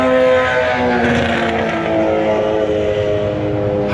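A Suzuki Hayabusa motorcycle races past, its loud, steady, high-revving engine drone holding nearly constant throughout without any pause.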